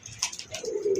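Red Gorra pigeons, a pair with young white-eyed birds, give a short soft coo that rises into a sustained low murmur near the end, close and fairly loud, with no voices.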